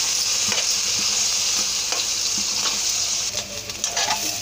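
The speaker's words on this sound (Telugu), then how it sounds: "ఈ మిల్ మేకర్ అనేవి నూనెలో వేయించితే బాగుంటాయండి" Oil sizzles and crackles loudly and continuously as soya chunks fry, with occasional scraping stirs against the pan.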